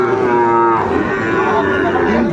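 Loud, close mooing from a Friesian cross bull calf at the Raniganj cattle market, one long sustained bellow that fades into a lower murmur of market noise.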